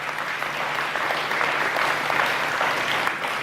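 Steady applause from an audience at a community watershed master plan meeting, a dense even patter of clapping sustained for several seconds at moderate loudness.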